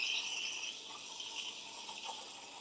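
Milk steaming wand drawing air into milk for latte art, a steady hissing, tearing paper-like noise close by and fairly loud throughout, with no speech.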